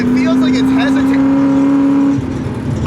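An LS-engined car running under load in first gear, its engine droning with a steady tone that cuts out near the end, hinting at a misfire, while people talk over it.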